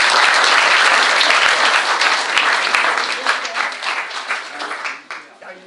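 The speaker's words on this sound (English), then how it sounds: "let's give them a round of applause" An audience claps in a sustained round of applause at a talk about Phil Springer's Air Force service, loud at first and then thinning and fading toward the end.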